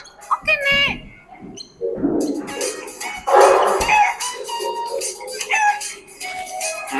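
Chickens cluck and squawk loudly and close by, overlapping with brief voices and some rustling in a busy, lively scene.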